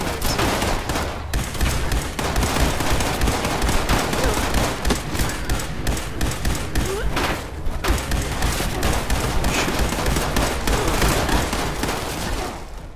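Rapid, loud video game rifle gunfire fills the whole stretch in dense, continuous bursts, with volleys of shots and some booming impacts, and voices faintly underneath.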